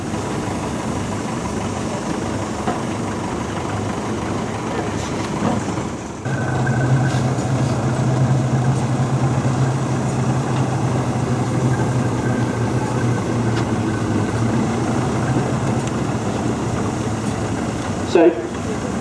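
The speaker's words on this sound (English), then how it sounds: "The engines are starting to move out." Steam traction engines at a vintage steam rally move off around the arena, a steady low chuffing rumble and hum that swells after a few seconds and holds throughout, with a sharp knock near the end and a public-address voice over the top.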